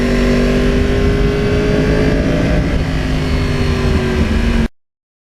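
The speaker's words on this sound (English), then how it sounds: "all of the Crossplanes have a very unique sound" A 2009 Yamaha R1 Crossplane motorcycle engine with titanium exhaust pipes rumbles loud and close, a deep throbbing idle with a gruff uneven beat that holds steady for a few seconds before cutting off abruptly.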